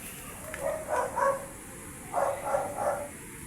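A dog barks outside at night, two short clusters of three muffled, distant barks separated by a brief pause, over a low steady background hiss.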